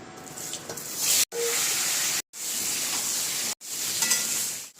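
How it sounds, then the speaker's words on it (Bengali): Green banana and potato pieces frying in a pan with cumin, a loud steady sizzle broken by several brief silent cuts, with no talk. "কড়াইতে জিরে আছে, তো আমি এখন কাঁচকলা আর আলুটা দিয়ে দিচ্ছি।"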